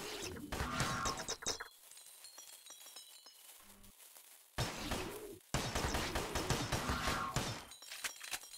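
Gunfire in the shooter game GRAV Reborn, loud rapid bursts in a dense volley, then a short quiet gap with a small clink, then heavy firing again, with no talking.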